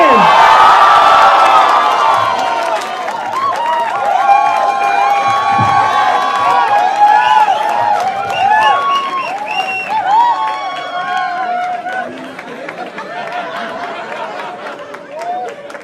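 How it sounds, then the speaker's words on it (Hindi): A studio audience cheers and applauds as the panel of a comedy show is introduced, with whoops, shouts and clapping forming a lively, crowded roar that stays loud throughout. "Make some noise for Raghav Juyal, Niharika NM, Rohan Joshi, and Munawar Farooqi."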